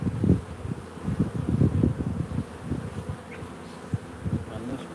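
Honey bees buzz at an open beehive during an inspection, with brood on the frames, producing a steady, close, low hum with fluctuating loudness and no talk.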